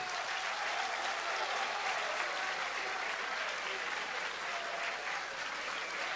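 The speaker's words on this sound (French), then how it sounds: "j'aimerais qu'on prenne quelques instants pour applaudir bien fort toutes celles et ceux qui ont chapeauté cette soirée" A large crowd at a launch evening applauds the organisers, dense and sustained clapping at a steady level for the full stretch, with no speech over it.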